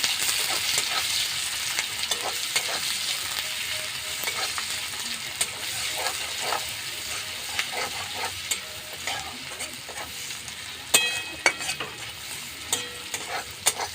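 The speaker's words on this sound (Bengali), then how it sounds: "এবার পেঁয়াজটা আমি এর সাথে ভালো করে ভেজে নেব" Finely chopped onion sizzles steadily in hot oil in a pan while a spoon stirs it, with scraping clicks growing more frequent toward the end; no one talks.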